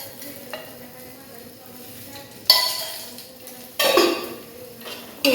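Grated coconut roasting in oil in a pan, a faint sizzle under bursts of louder stirring and scraping of the utensil against the pan, close by, with a hint of a voice.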